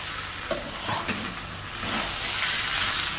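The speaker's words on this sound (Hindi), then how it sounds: "अब इन आलूओं को भी डाल देती हूँ, आलूओं को भी साथ में डाल करके भूनते हैं।" Potatoes for nimona are stirred in a hot pan, with a few scraping strokes early on and a sizzle that swells louder and hissier toward the end, close up and with no talking.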